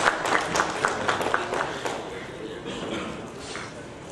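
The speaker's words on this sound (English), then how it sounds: "A round of applause for Mr. Kuruvilla, please." Audience applause at a conference in Nagpur, a burst of clapping from the crowd that fades gradually over a few seconds, moderately loud with some voices mixed in.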